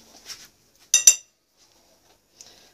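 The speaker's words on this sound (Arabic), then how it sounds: "دابا انا غنخلط هاد المكونات" Hands mixing marinade ingredients in a dish, with a few brief clinks and rustles at close range, including a louder double burst of contact in the middle, then quiet.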